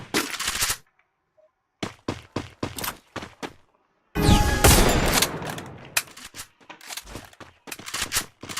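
Rapid bursts of UMP submachine-gun fire in the video game Free Fire MAX, several sharp volleys separated by short silences, with one longer sustained burst in the middle.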